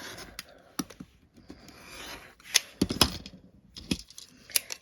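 Quilt fabric is cut for a summer quilt block, with irregular close snips and crisp clicking strokes between quieter pauses, and no talk.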